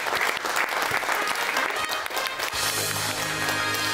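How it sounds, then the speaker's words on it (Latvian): Loud, sustained applause from a studio audience on a lottery TV show fills the clip, with a musical tone rising underneath in the second half. "Komandas sagaidiet savus dalībniekus ar aplausiem."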